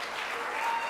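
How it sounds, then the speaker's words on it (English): Brief audience applause at a community meeting in West Bay, Cayman, a short burst of many hands clapping that grows slightly louder over about a second. "please give him a big round of applause."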